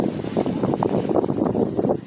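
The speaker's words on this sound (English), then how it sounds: "And it's windy, guys." Strong wind blows in gusts during snowfall, buffeting the microphone with a low, rumbling roar that rises and falls throughout.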